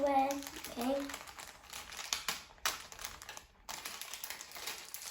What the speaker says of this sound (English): So we have finally opened the packet of confetti.